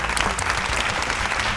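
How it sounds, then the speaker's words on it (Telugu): Dense applause from an audience at an outdoor game show in Lumbini Park, steady and loud throughout with no break. "ఒకసారి గట్టిగా క్లాప్స్ కొట్టండి ఒక్కసారి"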